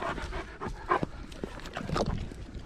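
A dog pants in quick, breathy bursts close by, with a few soft whimpers mixed in and light background noise.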